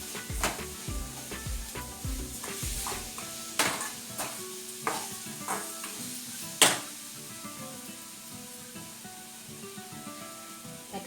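A paste of green chilies, garlic and coriander fries in a pan with a soft steady sizzle, punctuated by repeated scraping and clinking of a spoon against the pan.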